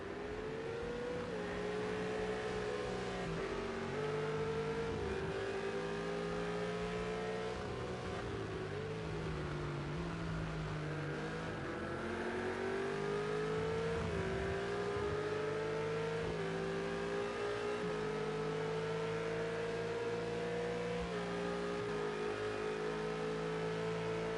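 McLaren and Ferrari race car engines in Project CARS 2 at the Dubai circuit, a continuous loud roar with pitch rising and falling through gear changes and overlapping engines, sustained for the whole stretch.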